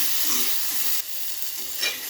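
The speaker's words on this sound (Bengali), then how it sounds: "ওই তেলে আমি বেগুনটাও ভেজে নেব" Brinjal frying in hot oil, as part of a Bengali tengra fish curry with potato, makes a bright, continuous hissing sizzle, close and even, with a slight surge near the end and no talking.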